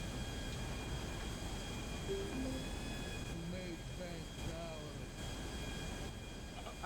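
Steady, loud aircraft engine drone in a GTA roleplay game, a continuous hum with faint tonal whines, and voices talking over it.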